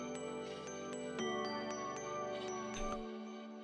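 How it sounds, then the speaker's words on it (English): A synth bell patch in a chill lofi beat rings out in a run of bright, evenly spaced chimes over a sustained pad and low bass, with a short glassy flourish near the end. "And we have this kind of bell patch."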